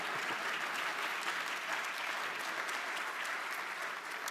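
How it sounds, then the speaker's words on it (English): Audience applause at a United Way of Central Maryland annual meeting, a steady, dense wash of many hands clapping that holds evenly through the whole stretch with no voices on top. "I thought someone would clap on that one."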